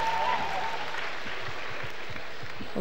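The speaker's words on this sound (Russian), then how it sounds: "Ваши аплодисменты!" A circus audience claps at a festival performance, broad applause held at a steady level with a few stray claps standing out near the front, and no clear speech over it.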